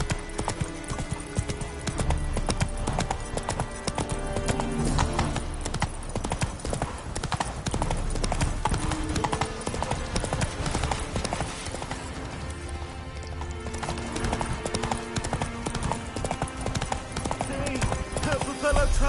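Horse Roach gallops in The Witcher 3 with steady rapid clip-clop hoofbeats and an occasional whinny, layered under a dense, loud game music score, with some voices talking.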